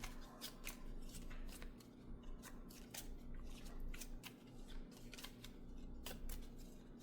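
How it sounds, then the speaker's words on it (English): A deck of cards from the Villainous board game being shuffled by hand, a series of crisp, quick riffling snaps and soft paper flicks, close and fairly quiet, with no talking. "Give it a shuffle."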